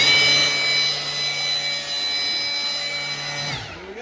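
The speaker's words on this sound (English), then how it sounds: "Got my Milwaukee blower." A Milwaukee cordless blower clears sawdust off roof sheathing on the ground, giving a loud, steady high-pitched whine with a rushing airflow that holds evenly for about three and a half seconds before cutting off and winding down.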